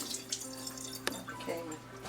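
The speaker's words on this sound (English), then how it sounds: "let me rinse my hands" Water runs from a tap as hands are rinsed at a sink, a steady close splashing wash with a few brief sharper drips and knocks along the way.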